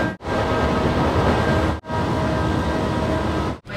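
A Bangaon AC local train rolls into the platform with a loud, continuous rumble and clatter of wheels, broken by brief sharp dips as carriages pass close by.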